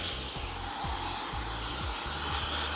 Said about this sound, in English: We're gonna get a little quick rough dry. Yeah. No diffuser this time. Okay. We're gonna go nozzle.